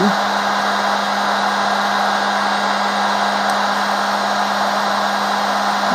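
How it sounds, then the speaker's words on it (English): Heat gun blowing hot air onto a central screw to loosen it, a loud continuous fan-and-airflow roar with a steady low hum throughout, close and unbroken, with no speech. "What Hans first is doing is actually heating up the central screw."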